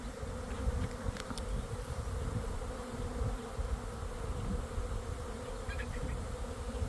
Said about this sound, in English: They're going into a Nucleus hive.